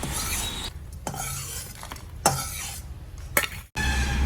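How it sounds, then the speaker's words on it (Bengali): Lentil bori frying in a little mustard oil in a wok, a steady sizzle broken by a few sharp stirring scrapes and clinks, with no voices over it. "প্রথমে কড়াইয়ে সামান্য পরিমাণ সর্ষের তেল দিয়ে বড়িগুলো ভালো করে ভেজে উঠিয়ে নিচ্ছি"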